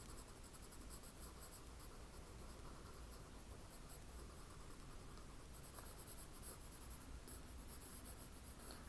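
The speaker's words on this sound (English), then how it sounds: "I'm going to shade this in a little bit darker" Pencil shading across paper in a steady, continuous scratchy rub, close and even in loudness throughout, darkening a drawn tree, with no voices.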